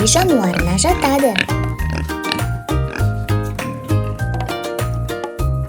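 A domestic pig oinks and grunts again and again in short, close, loud bursts. A brief higher squeal comes near the start.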